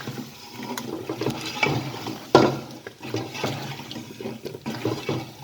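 Potatoes are stirred into masala in a cooking pot for Hyderabadi-style aloo baingan, giving irregular scraping and sloshing clatters with one sharper knock midway, close and moderately quiet, with no talk.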